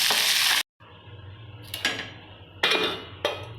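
Onions sauté in a pan with a loud sizzle that cuts out abruptly, then comes back quieter as a low hiss broken by a few clinks and scrapes of a spoon stirring against the pan.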